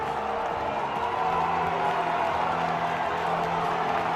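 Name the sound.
rugby supporters cheering at a Berwick v Greenock Wanderers match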